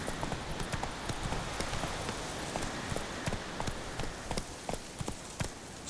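Hooves of the horse Roach gallop in The Witcher 3, a fast rhythmic clip-clop beating steadily over a wash of rain-like ambient noise, moderately close and continuous.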